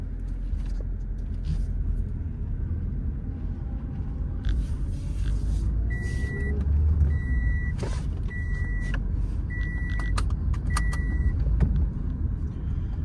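Inside a 2007 Toyota Corolla CE on a test drive, a steady low engine and road rumble fills the cabin, joined midway by a series of short repeated electronic chimes.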